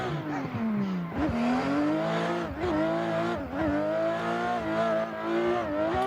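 Race car engine in the Assetto Corsa driving game, loud and close, with a continuous rising and falling whine and sharp dips and surges as the revs jump on clutch kicks, no talking.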